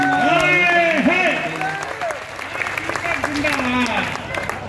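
An audience at a Hindi poetry gathering applauds, a steady wash of clapping from a crowd. A voice speaks or chants over it near the start, then the applause carries on mostly alone.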